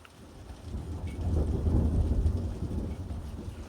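A long rolling rumble of thunder from a lightning storm swells and fades over steady rain, heard at a distance with no one speaking.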